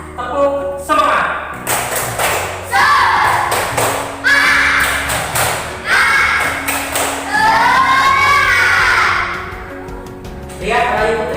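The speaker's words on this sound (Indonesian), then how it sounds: "Tepuk semangat." A classroom of schoolchildren performs a rhythmic chant-and-clap routine. Sharp, patterned claps and thumps alternate with loud young voices chanting together, all close by.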